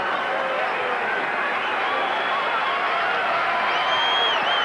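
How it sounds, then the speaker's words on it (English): A boxing arena crowd on its feet at the end of a round in the Tommy Hearns versus James Kinchen fight, a loud sustained roar of cheering and whooping that swells slightly toward the end, broad and continuous. "Crowd on their feet here."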